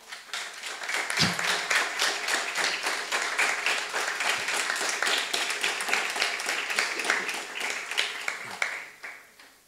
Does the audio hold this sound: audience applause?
yes